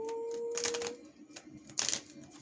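A deck of cards is shuffled close up in two quick riffling bursts, crisp and papery, after a faint tone fades out at the start.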